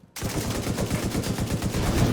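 Rapid, steady bursts of automatic gunfire in the video game The Division 2 rattle continuously, loud and close, with a heavy punchy low end and no voices.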